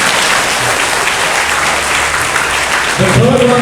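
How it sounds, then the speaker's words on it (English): An audience at a school patriotic competition gives participants loud, continuous clapping throughout, with a voice starting to speak over it near the end. "So let's give a round of applause again."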